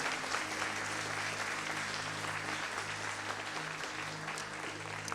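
Sustained applause from a large church congregation, a dense continuous wash of clapping that holds steady and loud throughout.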